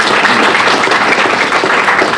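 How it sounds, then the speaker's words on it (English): A round of applause at a Rotary Club Tuesday luncheon in Bloomington, a loud, close burst of many hands clapping continuously for a couple of seconds. "they deserve a round of applause for what they do"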